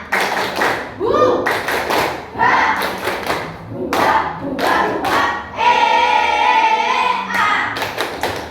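A school class claps hands together in a quick rhythmic pattern, with children's voices chanting along between bursts of claps.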